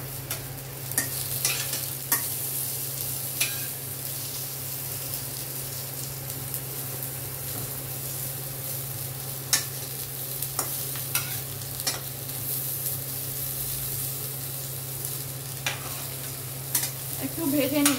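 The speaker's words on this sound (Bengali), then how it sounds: "পটলগুলো আমি ভেজে নিচ্ছি।" Pointed gourd pieces fry in hot oil, a constant sizzle broken by frequent scraping strokes of a spatula stirring the pan, close and fairly loud throughout.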